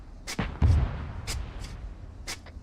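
Mortar rounds fired in a large Arma multiplayer battle, several sharp distant thumps spaced about a second apart, each with a brief crack and low rumble, over quiet background noise with no talk.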